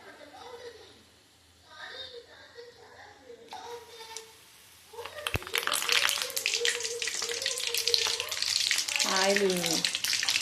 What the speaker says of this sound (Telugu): వేడయింది, మిర్చిలు వేస్తా.